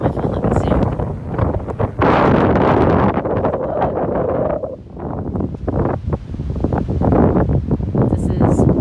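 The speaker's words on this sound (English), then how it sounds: "It's windy." Steady wind rumbles across the microphone during a drive through Gettysburg, gusting loudly throughout while a person speaks intermittently underneath.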